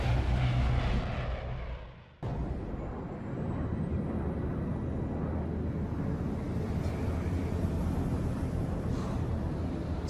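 Steady low drone of an airplane engine in flight, heard from inside the aircraft in a game cutscene; a louder rumble cuts off abruptly before the even cabin hum resumes, with no talk over it.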